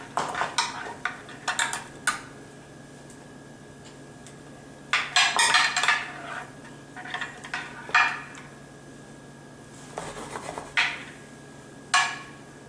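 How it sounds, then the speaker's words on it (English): A ladle scrapes and clinks against a 9x13 casserole dish while salsa verde is spooned into the bottom, with irregular bursts of close metallic and ceramic knocks separated by short pauses. "grab some of this Salsa Verde and just ladle a little bit of it on the bottom of this dish"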